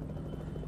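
A helicopter in the American Truck Simulator video game gives a steady low rotor thrum, a faint, continuous buzzing drone heard alone.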